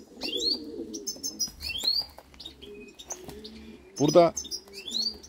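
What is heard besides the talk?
pigeons cooing and chirping outside open coops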